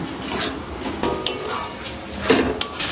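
A spice paste with a little water is stirred in a wok, giving intermittent metallic scrapes and clinks of a spoon against the pan, fairly close and with no talking.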